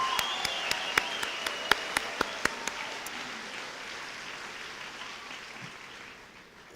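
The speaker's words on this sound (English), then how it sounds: "Let's clap for the class of 2025" A crowd at a Whitney Point High School 2025 graduation claps steadily across a large hall, a dense wash of applause with a few sharper, louder individual claps standing out near the front early on, then gradually thinning.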